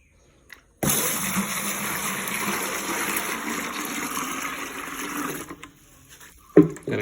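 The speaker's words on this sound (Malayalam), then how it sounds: "നല്ല വെള്ളം ഒഴിച്ചു കൊടുക്കുക." Water pours steadily into a bucket holding a couple of pinches of powdered medicine, a continuous broadband rush lasting several seconds before stopping, with a brief clatter at the end.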